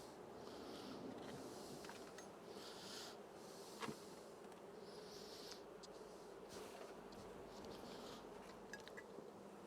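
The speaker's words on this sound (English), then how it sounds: "we just need to get the rest of these bees out of the actual observation hive" Honeybees buzzing in a steady, dense hum while being shaken out of an observation hive during a transfer, fairly close and quiet, with one brief thump midway and no talking.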